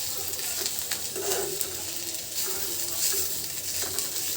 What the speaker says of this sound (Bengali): এরকম নাড়তেই থাকবো নাড়তেই থাকবো